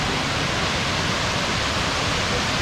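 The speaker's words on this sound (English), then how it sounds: "Absolutely amazing waterfall. This is 100 meters high." Kuang Si waterfall near Luang Prabang in Laos, 100 meters high, roars as a dense, unbroken wash of falling water, loud and steady with no other sounds.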